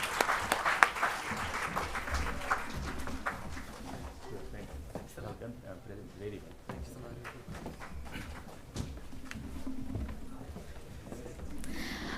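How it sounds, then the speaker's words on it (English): An audience gives a round of applause at a National Science Day celebration in Hyderabad, a moderate, fairly distant patter of clapping that runs steadily under and between spoken words. "let us all once again give a big round of applause"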